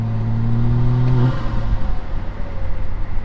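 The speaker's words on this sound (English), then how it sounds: "they're like, that's just a turbo spool" A BMW 340i with a big turbo driving, engine droning with a steady whine that tapers off as the throttle lifts, followed by rumbling road and cabin noise, loud and close.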